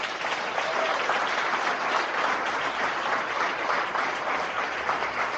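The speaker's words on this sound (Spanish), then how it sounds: "Denle un aplauso al Señor." Congregation applauding during a church service after a sermon, a loud, dense and steady round of clapping that holds evenly for several seconds.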